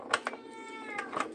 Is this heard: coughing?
no